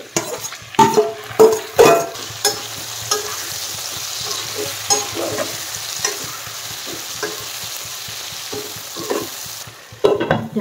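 Marinated duck meat fries with onions in a pan, a spatula scraping and tossing loudly at first, then a steady close sizzle with softer stirring, and no talking.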